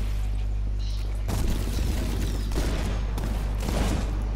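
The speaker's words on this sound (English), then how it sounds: "Hey Liam, I rigged the bottom of the stairs with an explosive" An explosive charge rigged at the bottom of a staircase goes off in a shooter video game, a loud low boom hitting at about 1.3 seconds, followed by further heavy bursts and rumbling over a steady low hum.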